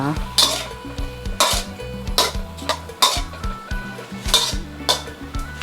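Metal spoon scraping and clinking against a pot while a watery mixture is stirred in a Thai home kitchen, with a steady rhythm of close, bright clanks about once a second under a low background of music.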